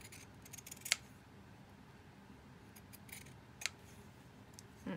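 Scissors snip paper gift tags in two crisp, separate cuts, one early and one later, against a quiet room with no talking.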